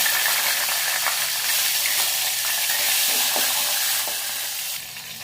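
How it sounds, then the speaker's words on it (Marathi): Cumin, asafoetida and green chili crackling in hot oil in a pan, a loud, dense continuous sizzle with faint pops that eases slightly at the end. "आता आपण त्यामध्ये जिरे टाकूया, थोडा हिंग टाकूया, मिरची टाकून घेऊया"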